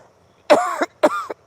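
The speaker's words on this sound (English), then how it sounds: "I'm even coughing into my shirt" Two harsh, close coughs, one after another with a brief pause between them, loud against an otherwise silent background.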